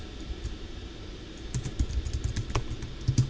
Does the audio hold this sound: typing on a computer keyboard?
yes